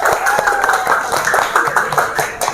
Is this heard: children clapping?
yes